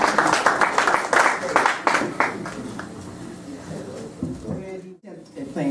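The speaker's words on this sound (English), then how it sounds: "give her a round of applause" Applause rises for Roz Dillard as she is brought up at a tribute to tennis coach Ed Chambers, a burst of clapping that fades after about two seconds into talk and room noise.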